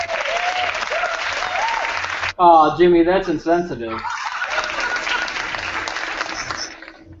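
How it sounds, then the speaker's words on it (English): Applause and clapping from a small group fill the opening, pause briefly while someone speaks, then resume and carry on steadily before fading out. "Why would you clap for something like that?"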